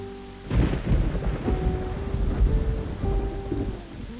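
Deep, booming thunder breaks abruptly and keeps rumbling heavily for several seconds amid falling rain, close and loud, then slowly fades.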